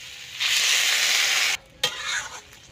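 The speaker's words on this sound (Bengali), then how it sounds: "এবার ওর মধ্যে জল দিয়ে দেব" A loud, hissing sizzle bursts up as water hits frying vegetables in a pan, holding steady, cutting off abruptly, then returning in softer bubbling crackles with a light clink.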